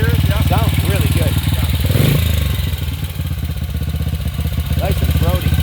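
A vintage 500cc single-cylinder thumper motorcycle engine running at a show, with a loud, close, steady pulsing idle that swells briefly in one blip while people talk over it.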